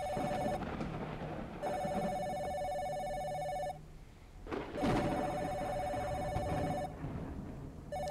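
A telephone rings repeatedly in the video game Mirror Forge, with three long bursts of electronic bell tone separated by short gaps, loud and clear against a low background hum.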